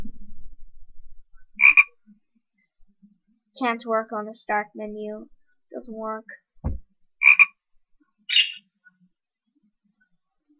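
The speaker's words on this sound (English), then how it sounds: "You'll hear a crazy frog sound like ribbit, ribbit, ribbit," A synthetic frog croak from the Windows 95/98 jungle desktop theme plays in short bursts, clear and close, with someone talking in between.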